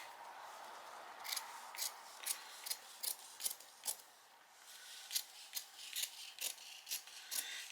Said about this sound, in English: we're going to trim back just this lining piece to about 1/8 of an inch away